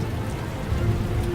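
Steady rain at night outside the Skyline Club in Batman: The Telltale Series falls as a soft, even hiss with low rumble underneath, quiet and continuous throughout.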